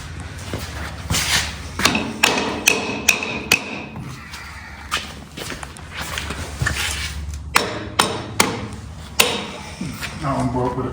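Sharp metal hammer blows ring out in irregular bursts of single strikes and quick clusters, close and fairly loud, as Ford 1000 tractor transmission parts are worked on in a workshop.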